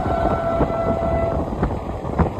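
Humsafar Express running onto the Nasipur rail bridge between Berhampore and Azimganj: continuous loud rolling rumble heard from inside the coach, with a steady tonal whine and a few sharp metallic clanks over the rails.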